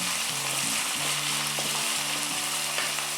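Onion frying in a pan for masala tomato rice, a steady close hiss of oil with occasional stirring scrapes, moderately quiet and without any voices over it.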